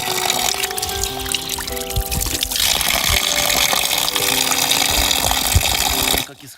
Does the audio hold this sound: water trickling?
yes